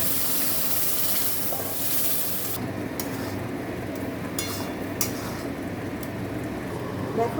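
A pot of curry bubbles and hisses steadily on the stove right after a hot tempering is poured in, a broad close sizzle that thins out partway through, with a few sharp spits and light stirring clinks.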